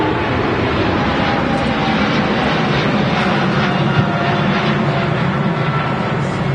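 A Qatar Airways Boeing 777-300 jet airliner near Manchester Airport, its engines giving a steady, loud broadband roar that holds evenly throughout with no break.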